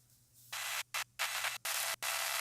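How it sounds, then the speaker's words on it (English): Water sprays from a squirt bottle inside a cup during model kit work to keep dust down, five quick hissing bursts separated by short gaps, close and loud over a low steady hum. "grab a squirt bottle with water. Just spray the inside."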